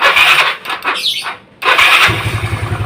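A Yamaha Mio scooter with a freshly installed block and piston starts up, its engine buzzing loudly at close range, dropping briefly, then catching again into a steady pulsing idle.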